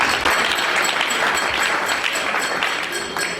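Mourners at a funeral break into steady, loud applause, a continuous close burst of many hands clapping that holds at an even level throughout.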